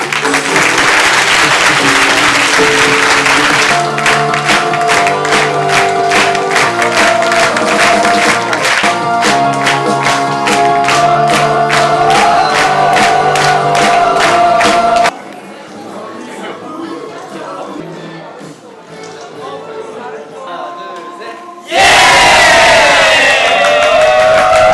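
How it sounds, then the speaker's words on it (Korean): A large school audience cheers and applauds loudly after a Catholic youth theatre festival play, with rhythmic clapping and crowd voices, a quieter stretch of murmuring, then a sudden loud burst of cheering. "환호가 울려 퍼지고"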